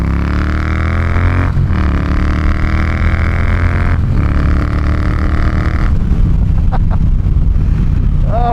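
A Triumph T120 motorcycle rides along with a loud, continuous engine drone whose pitch climbs, then drops at a couple of gear changes, heard up close with wind rush.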